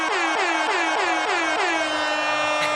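An air horn is pounded at a Democratic election party, firing a rapid string of about seven loud, brassy blasts in a steady rhythm before stopping.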